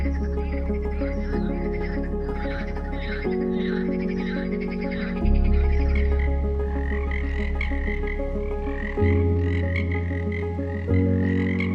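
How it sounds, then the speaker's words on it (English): Marsh frogs (Pelophylax ridibundus) croak in a loud, close chorus of buzzing, rattling calls that keep overlapping without a break, with the pitch and intensity shifting between bursts. "The marsh frog, Pelophylax ridibundus, is a species of frog commonly found in Europe and parts of Asia."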